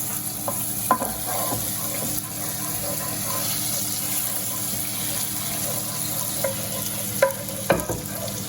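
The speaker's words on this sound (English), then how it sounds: "Melt on high heat while you stir for about 2 minutes." Butter melts in a hot pan on high heat while being stirred, a steady close sizzle with occasional scraping knocks of the utensil against the pan, no talking.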